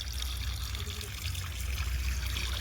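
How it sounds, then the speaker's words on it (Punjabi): Water runs through a 100-foot hose onto a flat concrete roof slab, filling it in a steady trickle and splash that continues without pause, fairly close and moderately loud. "ਭਰਤਾ ਪਾਣੀ ਨਾਲ ਲੈਂਟਰ ਸਾਰੀ ਛੱਤ ਭਰਤੀ ਹੈ ਪਾਣੀ ਨਾਲ"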